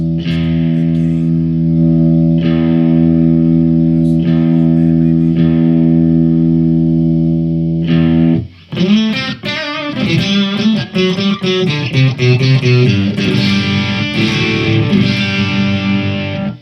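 Squier electric guitar runs through a Boss Metal Zone distortion pedal into a Crate amp, miked at the cab: a long sustained distorted chord rings out and is restruck, then a busy stretch of fast high-gain riffing, loud with no talk.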